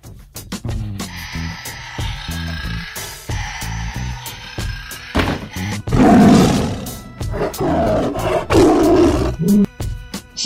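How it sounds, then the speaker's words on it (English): A tiger roars loudly and repeatedly at close range, the deep growling calls rising and falling in bursts over several seconds with no talking. "Tiger."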